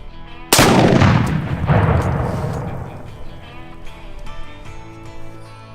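A single suppressed gunshot fired outdoors on a farm, a loud sharp report followed by a long rolling echo that fades slowly, with no talking.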